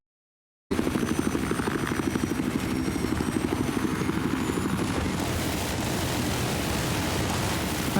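Helicopter in the video game Battlefield 4, a loud, close, steady rotor thump with dense engine whine that holds continuously after starting abruptly, with no voices.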